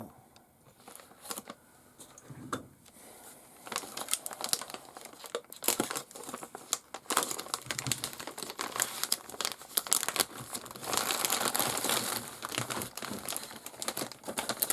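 A plastic bag of parts from a Tamiya TT02 Subaru Impreza RC car kit is handled up close, giving loud, irregular crinkling and rustling that builds in intensity over the stretch, with no talking.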